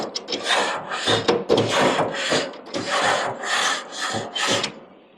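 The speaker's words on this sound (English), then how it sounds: "you can get the grates to go in between the coils and you can really get down on them like this" A Kona bristle-free coil brush scrubs metal grill grates in rhythmic back-and-forth strokes, a loud, close, rasping scrape repeating about eight times in quick succession.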